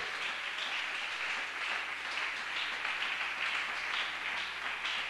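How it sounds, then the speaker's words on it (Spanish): Church congregation applauding during a Spanish-language sermon on the fear of God: a dense, steady wash of many hands clapping that fills the whole stretch at an even, moderate level without fading. "Dele un fuerte aplauso al Señor"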